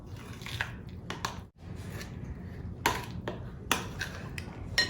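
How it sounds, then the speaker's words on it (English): Someone stirs steamed pudding batter with beaten eggs in a bowl, giving soft wet squishing and occasional utensil clicks against the bowl. The sounds are quiet, close and irregular. "we'll give that another stir"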